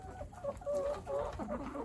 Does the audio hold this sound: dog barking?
no